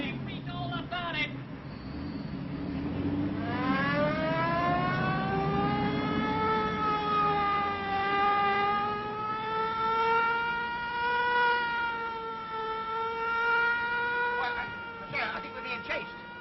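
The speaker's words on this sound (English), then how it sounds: "Get your foot off that siren." A car siren wails close and loud, sweeping up then holding a steady rising-falling tone for most of the stretch over engine rumble during a comic chase, with brief voices at the start and end.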